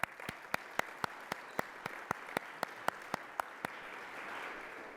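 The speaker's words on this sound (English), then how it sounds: "Let's give him an applause." Steady, evenly spaced hand claps, about four per second, sound crisp but fairly faint against quiet room noise, then stop.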